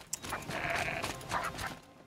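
A goat in the game Horizon Zero Dawn lets out a nasal, wavering bleat that lasts about a second and is heard close and clear.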